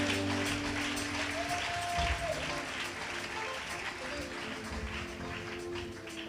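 A church congregation applauding and cheering in praise during a sermon, sustained clapping from a large crowd filling a hall, with voices mixed in.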